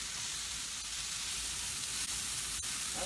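Vegetables for an omelet sizzle steadily in a pan on a turned-down burner, a continuous close frying hiss with a few small pops and no talking.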